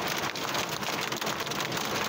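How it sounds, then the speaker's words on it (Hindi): Steady rain falls in Murree, a continuous, even hiss of drops with no break and no voices. "मरी में भी बारिश बरसने से मौसम खुशगवार हो गया है"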